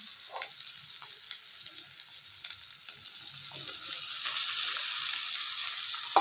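Sabudana frying and being stirred in a hot pan, a steady close sizzle with scraping stir strokes throughout and no talking.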